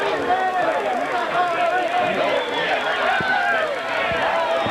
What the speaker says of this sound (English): Again, a lively crowd here at this one tonight.